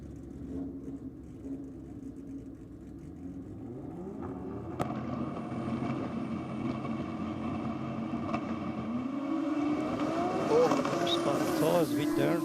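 Drag racing cars launch at Sydney Dragway during an evening session. A low rumble builds into a rising engine roar as they run down the strip, moderately distant, with a commentator talking over it.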